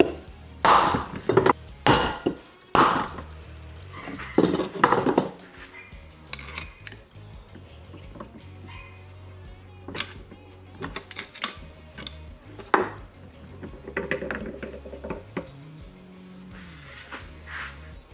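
Hammer blows knock a gear off the splines of a Toyota W56 manual transmission during a rebuild, sharp metallic strikes in bursts of several hits with ringing clinks between them, close up and loud.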